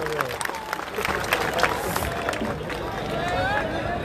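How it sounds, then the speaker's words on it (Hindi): A crowd applauding at an outdoor public political meeting, a steady dense patter of clapping with murmuring voices throughout. "एक बार फिर से दोनों को जोरदार तालियों से उनका इस्तकबाल कर दीजिएगा।"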